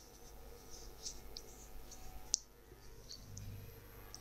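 Computer mouse clicks while working through Windows 10 theme settings, a few faint, sparse clicks spread irregularly over a quiet background with no talking.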